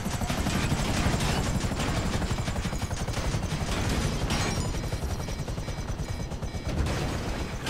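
A helicopter in GTA5 Online gives off a loud, constant rotor thrum with rapid chopping pulses, heavy and close throughout, with bursts of gunfire mixed in.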